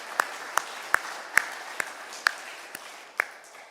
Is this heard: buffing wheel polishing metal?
no